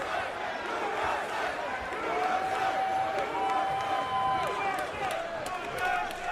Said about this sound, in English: The crowd chanting USA.